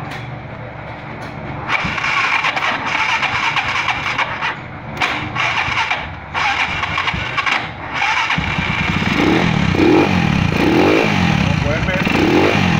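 A UM Renegade 180cc motorcycle that had no spark fires up after cranking, its engine catching around eight seconds in and settling into a loud, lumpy running rumble while someone talks over it close by.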